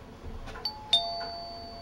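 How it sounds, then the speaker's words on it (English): A doorbell chimes indoors, two bright tones that ring out and linger briefly, clear and fairly close, with no talking over it. "That would be the real doorbell."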